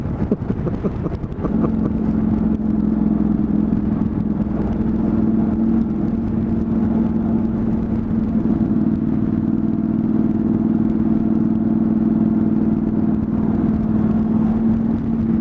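Honda CTX motorcycle cruising on a road through Saguaro National Park, its steady engine drone and wind rumble continuous and close for the whole stretch, with no talking.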